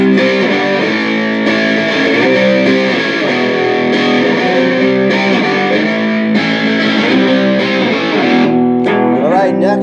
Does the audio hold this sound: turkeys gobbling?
no